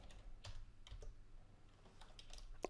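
Computer keyboard typing during Arduino and ESP32 coding, a quiet irregular series of key taps close to the microphone, with one sharper louder keystroke near the end.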